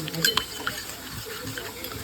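Water is poured into about a spoonful of red chilli powder to make a paste: a short, soft splash and trickle, close and fairly quiet, with talk over it.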